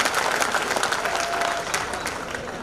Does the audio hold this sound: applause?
yes